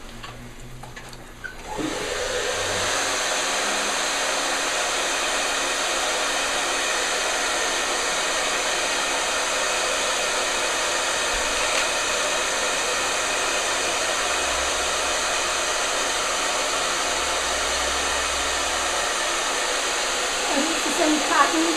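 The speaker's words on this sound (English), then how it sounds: "let's get the hair dryer here" In a skincare treatment room, a hair dryer switches on after a couple of seconds and blows with a steady, loud, close whooshing hum, with faint voices occasionally underneath.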